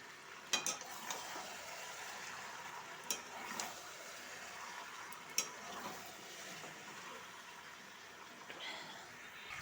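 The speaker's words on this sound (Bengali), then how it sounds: "এখানে মাংসটা কষানো হচ্ছে।" Chicken sizzles steadily in a pan while it is sautéed and stirred, with a few sharp scrapes and clinks from the spoon over the quiet frying hiss.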